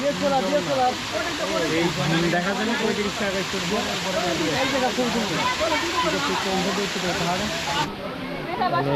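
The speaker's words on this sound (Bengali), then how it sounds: "ভাই কৃত্রিম ঝর্ণা ভাই" A steady hiss of water pouring and splashing from an artificial waterfall near Cox's Bazar, Bangladesh, with someone speaking over the constant rush.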